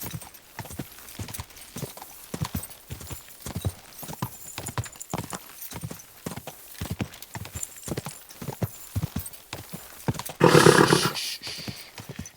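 Horse hooves clip-clop in a steady rhythm on a hard surface in the medieval game Kingdom Come: Deliverance II, close and clear, with a louder burst of horse noise near the end.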